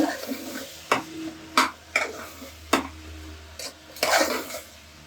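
Potatoes and fenugreek leaves stirred in a pan for aloo methi, a spoon scraping and clinking against the metal in several separate strokes, with a faint sizzle underneath.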